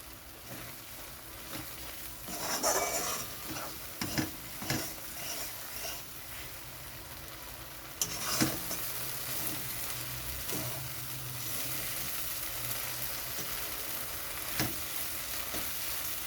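Masala spice paste sautéing in a pan over a flame raised from low, a steady soft sizzle under intermittent scrapes and clinks of a spoon stirring, close and fairly quiet with no talk.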